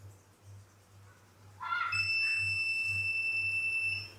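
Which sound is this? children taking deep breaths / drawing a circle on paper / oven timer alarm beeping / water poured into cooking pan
oven timer alarm beeping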